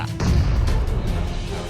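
A heavy PUBG Mobile explosion bursts in suddenly and rolls on as a deep, loud rumbling roar.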